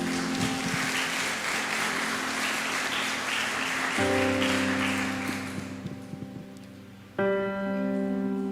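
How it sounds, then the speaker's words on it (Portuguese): A church congregation applauds during a sermon, a broad wash of clapping that slowly fades over several seconds while sustained keyboard chords ring underneath and then swell alone. "Aplaude"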